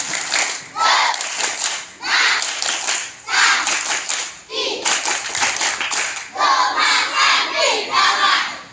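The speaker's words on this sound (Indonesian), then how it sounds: "Ya, lagi sekali. Tepuk ke Mas Santi" A crowd of schoolchildren at a semester-break creativity event repeat a clapping chant, rhythmic bursts of hand claps mixed with loud group shouts, close and energetic in repeated phrases.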